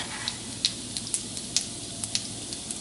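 Whole cumin seeds sizzling in hot oil in a pan, a soft steady frying hiss dotted with small sharp pops and crackles at a quick irregular rhythm.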